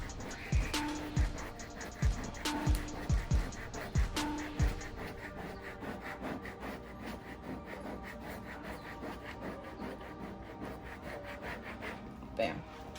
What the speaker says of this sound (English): Squeegee it down better.